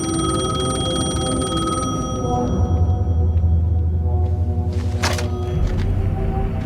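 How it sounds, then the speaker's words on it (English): A telephone rings in the Alan Wake 2 horror game, a sustained electronic ring over a dark ambient drone, followed by a low rumble and a sharp clicking burst near the end. "The phone was ringing."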